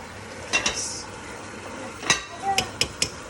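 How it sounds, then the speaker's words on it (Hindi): A cooked potato and brinjal dish is served from a pan into a bowl with a few sharp utensil clinks and scrapes, clear and close, some spaced apart and some in quick succession near the end. "अब हम इसको सर्विंग डिश में निकालेंगे, बाउल में।"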